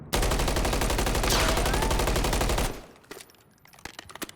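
Automatic gunfire in Modern Warfare 3, aimed down sights, hammers out a loud, rapid, continuous burst for over two seconds, then cuts off into scattered quieter clicks and clatter.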